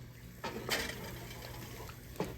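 Water is poured into a pan holding pork chops, with a few sharp clinks of cookware and a soft liquid hiss in a quiet kitchen.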